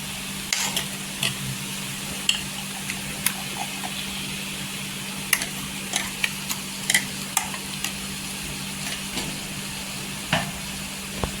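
Onion-coconut masala being stirred in a frying pan for egg curry, a continuous sizzle with repeated sharp scraping and tapping of the spoon against the pan, close and alone.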